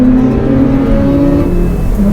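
A loud, steady engine roar from a car racing on a normal road under hard acceleration, a Mazda Miata NC3 or tuned RX-8, droning continuously with a slight rise in pitch.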